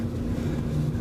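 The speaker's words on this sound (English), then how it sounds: "you got the jet skis in the background." Jet skis drone steadily in the distance during an outdoor motor mount repair on a 2001 Dodge Neon, a low, continuous engine rumble with a faint steady hum and no talking.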